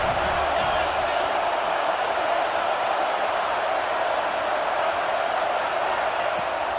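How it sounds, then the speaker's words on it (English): Alabama home crowd at Saban Field during the Iron Bowl against Auburn, roaring on a third down: a steady, dense wall of loud crowd noise that holds evenly throughout. "The Tide crowd rolling noise down onto Saban Field on 3rd down."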